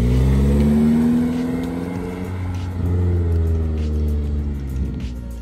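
A 2020 Toyota Corolla hatchback four-cylinder with a Remark exhaust revs loudly and close, its deep droning tone rising and falling through a few throttle blips with no talk over it.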